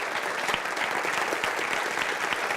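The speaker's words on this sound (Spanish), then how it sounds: "Dale un aplauso al Señor." A church congregation claps vigorously in a thick burst of applause, close and loud throughout, with no speech over it.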